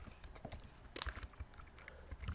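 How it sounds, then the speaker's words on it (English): Rapid, uneven clicking of computer keyboard keys while PHP code is typed, close and continuous with short pauses, no talking. "I'm just gonna make sure I type everything right"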